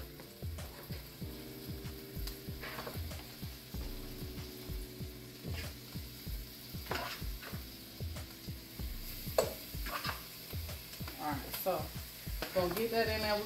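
Chicken wings frying in a pan give a steady close sizzle, broken by scraping and stirring knocks and occasional louder clacks, with faint speech at times.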